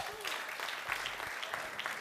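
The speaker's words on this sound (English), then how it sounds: "Clap for them" Audience clapping on a Nigerian entertainment show after a contestant's score is announced, a dense steady patter of many hands at moderate loudness, with a host's voice cutting in over it.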